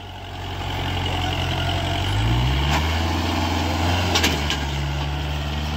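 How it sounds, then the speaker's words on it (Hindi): A tractor engine runs steadily nearby in four-wheel drive, a low diesel rumble that shifts pitch as it revs up midway, with no talking. "4 व्हील ड्राइव में ट्रैक्टर चला रहा भाई"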